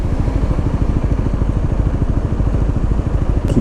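A motorcycle engine runs with a steady, rapid throbbing pulse, loud and close throughout, with no voices.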